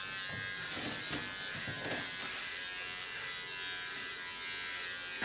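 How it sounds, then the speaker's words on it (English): A Kiona cordless electric hair clipper, the brand's largest model, cuts hair with a quiet continuous buzz and soft rhythmic pulses as it moves through the hair, close by and faint. "It's the largest clipper of Kiona, and the nice thing of Kiona clipper is they can work a whole day with one charge."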